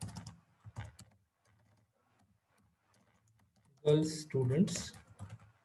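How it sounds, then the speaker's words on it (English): Soft, irregular keyboard clicks tapping away, then a voice speaks briefly near the end. "So over here I am typing"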